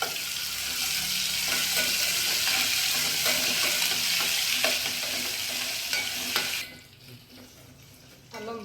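Curry leaves and ginger paste frying in a pan, a loud steady sizzle with scraping stir strokes that cuts out abruptly near the end.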